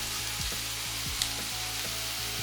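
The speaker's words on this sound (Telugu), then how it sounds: "సెకండ్ బ్యాచ్ని కూడా ఇదే విధంగా డీప్ ఫ్రై చేసుకొని తీసుకోవాలి." Cauliflower gobi pieces deep frying in hot oil, a steady loud sizzle with a faint rhythmic pulsing and no voices.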